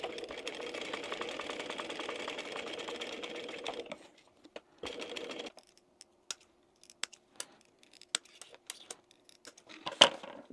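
A sewing machine stitches small pattern lines across the folded, glued tail of a fish-shaped zip pouch, whirring steadily for about four seconds, pausing, running again in a short burst, then giving way to scattered light clicks.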